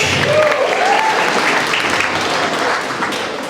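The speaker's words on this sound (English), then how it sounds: "give a big round of applause for Derek." A wedding crowd applauds loudly and steadily throughout, a dense wash of clapping that tapers slightly near the end, with a brief whistle or cheer early on.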